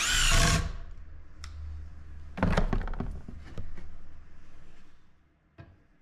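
A power drill drives screws into wooden floor joists while they are being levelled. It gives several short whirring bursts with thunks and pauses between them, close and fairly loud, with no talking.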